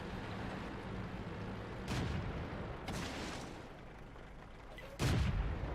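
Tank cannon shots ring out in World of Tanks, most likely from a KV-1S, as booming blasts at about two, three and five seconds over a steady rumbling battle bed; the last blast is the loudest and closest.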